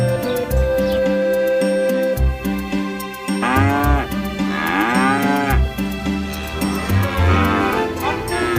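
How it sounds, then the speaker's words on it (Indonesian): A cow moos several times in long, drawn-out calls, close and loud, with some low background noise between them. "Sapi."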